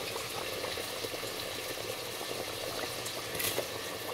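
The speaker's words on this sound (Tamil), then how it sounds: "பால் நல்லா கொதிச்சிருச்சு." Milk at a rolling boil in a pot for prawn biryani, a dense, even crackle of bubbling that runs steadily throughout, close by and unaccompanied by speech.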